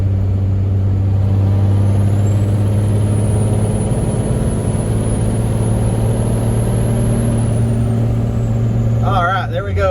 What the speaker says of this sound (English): I'm in 4th gear, coming out of wind thrust, and I'm just going to mash on it so you can see how it does.